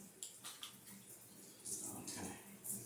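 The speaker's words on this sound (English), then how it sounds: "Just coming at you live from the shower." A shower runs in the background, an uneven hiss of falling water with brief splashy surges, heard faintly and partly under a person's voice.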